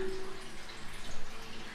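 Water from an aquarium filter falls and trickles steadily into the tank, a faint continuous splashing and dripping close by.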